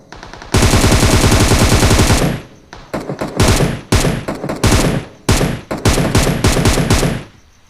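Automatic gunfire in a PUBG/BGMI battle-royale match, one long loud sustained burst followed by many shorter rapid bursts, close and dense, with no talking.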